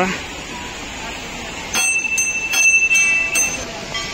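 A temple bell rings out sharply a few times, its clear tone lingering, over a background of crowd murmur.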